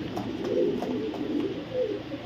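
Lahori racer pigeons coo in low, soft murmurs, faint beneath a steady wash of background noise, with no one speaking.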